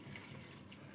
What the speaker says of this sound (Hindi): अब तकरीबन 1 गिलास के करीब मैं इसमें पानी डालूंगी